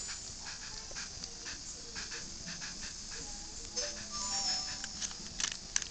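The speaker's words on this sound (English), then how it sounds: "She's my favorite dog." A virtual dog in the Nintendogs video game pants in quick rhythmic breaths, faint and close, with small whimpers and light pattering mixed in.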